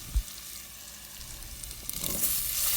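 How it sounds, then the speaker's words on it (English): Crushed garlic frying in ghee for sambar gives a soft, steady sizzle close by, with a light knock at the start and the hiss swelling louder near the end. "We have to fry this in the ghee for some time so that you will get a nice aroma out of it."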